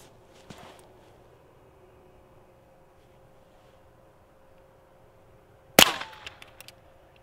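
A single sharp, loud gunshot from a Federal 40 grain standard pressure .22 LR round-nose round fired at a custom Kydex knife sheath, outdoors and close, with a small earlier knock and a few brief rattles after the shot.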